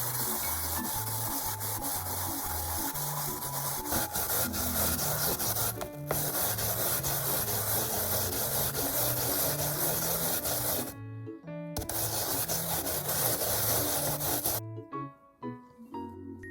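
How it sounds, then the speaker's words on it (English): Yam grated by hand at home for okonomiyaki, a steady scraping rub in quick repeated strokes, close and fairly quiet, with brief pauses near the end and a short gap partway through. "Grate the yam."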